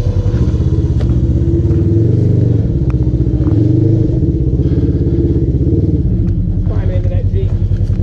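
A Jeep engine rumbles and revs hard while climbing a rocky off-road trail at Windrock, a loud, throbbing low drone with clattering over it, and people talking throughout.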